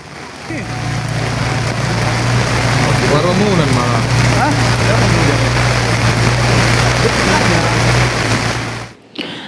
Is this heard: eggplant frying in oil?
no